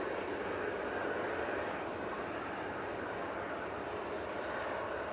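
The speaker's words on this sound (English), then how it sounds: "A380 now coming in from Dublin" Aer Lingus Airbus A380 landing at Manchester Airport during a storm, a steady broadband roar of engine noise and wind that stays loud and constant throughout.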